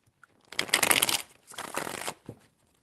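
Tarot cards being shuffled by hand in two quick, crisp bursts separated by a short pause, close and fairly loud, with no voices.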